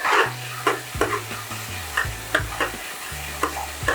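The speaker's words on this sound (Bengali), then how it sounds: "আমি এই মশলাটাকে একটু ভালো করে কষিয়ে নেবো যতক্ষণ এটা তেল না ছেড়ে দেয়" Turmeric spice paste sizzling in hot oil in a pan as it is stirred, with a steady loud fry and repeated scraping strokes of the spoon at a regular rhythm, no voices.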